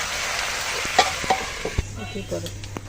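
Green chili dropped into a pan of frying fish curry, bursting into a loud sizzle with a few stirring knocks and clatters, then settling into a quieter hiss.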